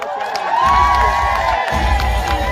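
A crowd of women in Samburu, Kenya, cheering and ululating at a gathering, loud overlapping high-pitched whoops and shouts close by, with a brief dip before the cheering swells again.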